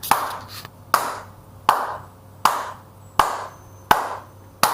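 Palms slapping a man's body during tapping therapy, six sharp, evenly spaced smacks about one per second, close and loud, each ringing briefly before the next.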